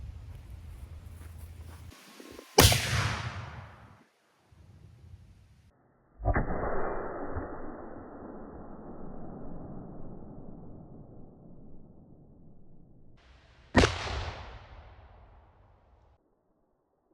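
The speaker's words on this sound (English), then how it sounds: "we've got a bouncy ball loaded up as our first shot against our cinder block wall." A cannon fires a bouncy ball at a cinder block wall outdoors: a sharp report followed by a second loud burst with a long decaying rumble, then another sharp blast near the end, with quiet gaps between.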